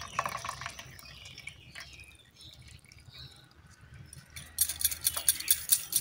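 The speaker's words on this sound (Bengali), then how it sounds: "এবার জলটা আমি ভালো করে ঝরিয়ে নেব।" Cold water drains off boiled chow mein noodles in uneven trickles and drips, close and fairly quiet at first, then a brisker splashing burst near the end, with nobody speaking.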